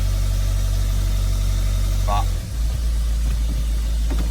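A steady, low engine idle rumbles close by, with a brief dip and a spoken word partway through.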